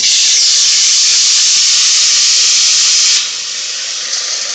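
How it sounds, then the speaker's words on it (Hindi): Ground garlic and ginger paste hits hot oil with a loud, steady hissing sizzle that holds for about three seconds, then eases to a slightly softer fry. "अब इसमें जो लहसुन अदरक हमने पीसा था वो डालेंगे हम इसमें।"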